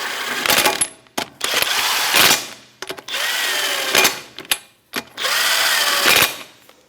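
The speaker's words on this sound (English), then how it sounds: "we'll just snug them up and then torque them to factory spec" Power tool or impact driver with a 21 mm socket snugging wheel lug nuts on a 2008-2013 Nissan Rogue, loud close whirring bursts of about a second each, repeated four or five times with short gaps, no talking.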